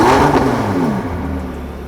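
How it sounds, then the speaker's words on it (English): A naturally aspirated V8 hypercar engine snarls loudly up close, then its revs fall away in a smooth descending whine that fades into a low idle hum. "Because this is a naturally aspirated V8, it sounds insane, especially the cracks"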